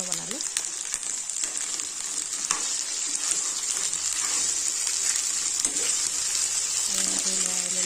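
Boiled chickpeas sizzle and fry steadily in a pan as they are stirred for a chutney, a continuous bright hiss with scraping stir strokes, loud and close throughout.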